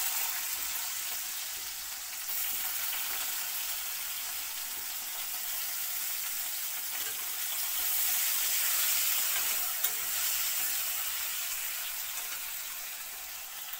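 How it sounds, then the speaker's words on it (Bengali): Finely chopped potatoes hit well-heated oil and sizzle in a steady, bright crackling hiss that swells slightly midway, close and continuous with no talking. "তেলটা ভালো করে গরম হয়ে গেছে, এবার দিয়ে দিলাম আলু কুচি।"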